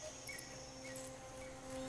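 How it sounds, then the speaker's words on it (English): Robot grasshopper in the video game Biomutant chirping steadily, a close insect-like trill with thin high tones running throughout, no talking. "It's a robot grasshopper."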